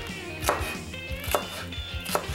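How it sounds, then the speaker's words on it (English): A knife cuts fresh jalapenos lengthwise on a cutting board, three distinct chopping knocks spaced evenly, close and fairly soft, with no talking. "Slice them long ways."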